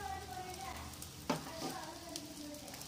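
Egg and bread frying in a pan over a low flame, a steady close sizzle with a brief clatter of stirring or turning partway through.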